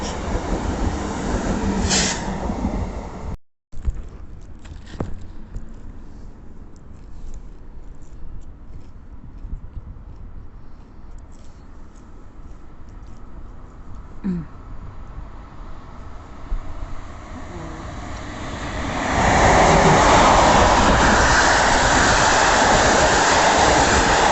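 A train rolls through Tarnów railway station in Poland with a loud continuous rumble and rail noise, swelling into a heavy roar near the end.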